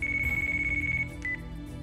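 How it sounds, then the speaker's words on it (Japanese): A telephone rings in a Yakuza Kiwami video game cutscene, a steady electronic ringtone that runs loud and clear, then breaks into shorter tones near the end, with no speech over it. "電話鳴ってます。"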